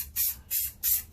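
Rust-Oleum gloss purple spray paint hisses from the can in three short, sharp bursts with brief pauses between them, close and fairly loud.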